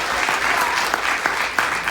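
Steady clapping from a church congregation during a sermon, a dense, even patter of many hands close by with no voices over it.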